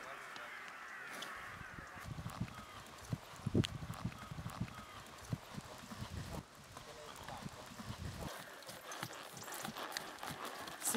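A trotter horse moves at a hard, fast trot, its hoofbeats a steady, moderately close clip-clop. People talk over it and birds call in the background.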